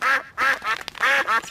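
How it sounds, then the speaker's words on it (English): Cartoon ducks quack at a frozen winter pond: about five loud, nasal quacks in quick succession with short gaps between them, and no talking. "Hello, ducks. We've got some bread for you. The ducks like bread."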